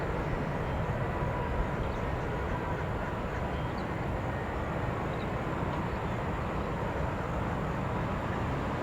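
A steady, broad roar of a Southwest airliner on an airport runway holds constant and fairly distant-sounding throughout, with no voices over it.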